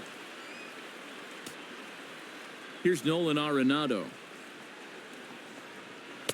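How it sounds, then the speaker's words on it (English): Steady rain falls at a Diamondbacks–Dodgers baseball game as a constant soft hiss, with a commentator speaking briefly over it midway. "The rain, as we've mentioned, coming down fairly steadily here at game time"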